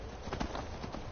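Horse hooves pound in a quick galloping clip-clop in the video game Skyrim, several muffled hoofbeats in a short burst over a dense, noisy background.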